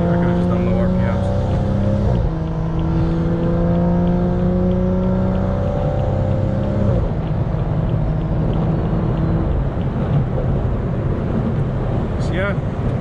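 A motorcycle engine revs hard as it pulls away on a low-traction surface, a close, continuous drone whose pitch rises and drops in sweeps with no pause throughout.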